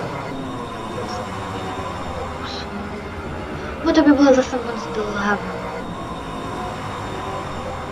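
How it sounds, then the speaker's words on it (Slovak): A subway train in the Roblox game Livetopia rumbles along steadily, with a brief burst of squealing wheels and rattling midway, while a person speaks briefly in Slovak over it. "Metro je celkom rýchly spôsob dopravy"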